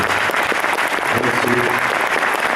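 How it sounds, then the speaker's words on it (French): Audience applause for game designer Yu Suzuki at the close of a conference session, dense continuous clapping filling the room at a strong level, with faint voices mixed in. "Merci beaucoup, Yu Suzuki. Je pense qu'on peut l'applaudir"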